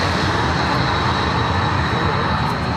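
A Cold War jet aircraft at an airshow, once based at Aden with 208 Squadron, roars as a broad, steady rumble with a hissing edge, loud and continuous, heard at some distance.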